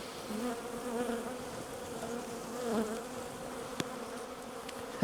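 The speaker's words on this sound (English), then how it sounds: "This is going to upset so many bees." Honey bees buzz in a steady, dense swarm around an opened hive at night, close by, swelling slightly at times, with a couple of faint clicks and no talking.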